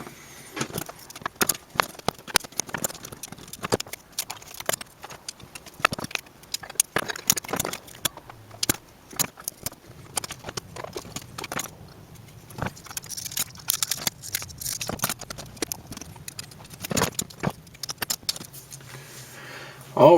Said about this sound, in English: So I'm going to just go ahead and cut this stuff off, strip this board out